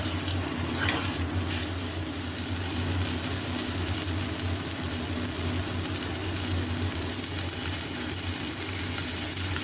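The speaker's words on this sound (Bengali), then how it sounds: "সব মশলাগুলো এবার ভালো করে একটু কষে নেব।" Spices stir-fried in a pan with a splash of water for a winter vegetable dish, giving a steady, close sizzle with scraping stir sounds throughout.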